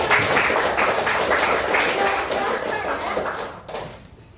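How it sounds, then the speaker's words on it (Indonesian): Classroom of students clapping together, a dense burst of applause that fades toward the end with faint voices. "Tepuk tangan dulu."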